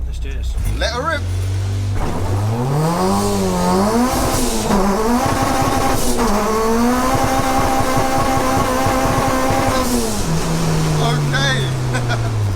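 A supercharged K-swapped Honda Civic coupe time attack car blasts off at full throttle, its engine note climbing and falling through hard revs and gear changes. The run is loud, close and sustained, with tire noise and voices underneath.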